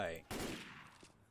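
A single gunshot with a broadband crack and decaying tail from a firearm in Left 4 Dead 2, a zombie shooter played on the Dead Before Dawn campaign, loud and close, following a brief earlier tone.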